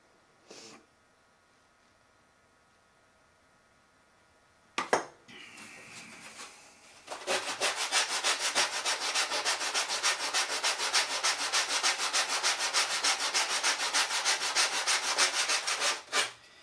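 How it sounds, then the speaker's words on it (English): Sandpaper rubbing over wood on a model aircraft build, a few scrapes and a knock early on, then about nine seconds of steady, rapid back-and-forth sanding strokes, close and clear. "So let's sand a bit more."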